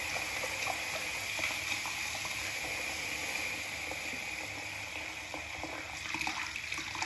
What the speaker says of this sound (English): the sound of water like this, you know, like a blip, blip, that's what gets him going